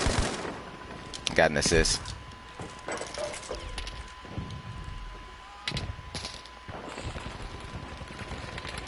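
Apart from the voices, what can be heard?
light machine gun fire in the video game Battlefield V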